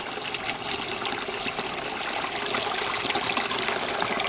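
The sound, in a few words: waterfall and stream flowing in snowy woodland garden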